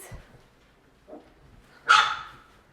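A single sharp puppy yip breaks a mostly quiet scene, preceded by a couple of faint soft whimpers, near a dish of goat's milk.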